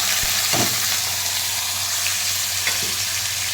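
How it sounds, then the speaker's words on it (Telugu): Cumin seeds frying in hot oil give a steady, loud sizzle throughout, with a few faint pops and crackles. "ఫస్ట్ జీలకర్ర వేసుకోవాలి."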